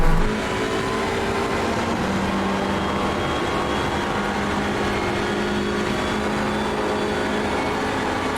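Hyundai Elantra touring car launching from the grid in iRacing at Watkins Glen, its engine giving a loud, steady, close drone that fills the whole stretch, mixed with the roar of surrounding race cars.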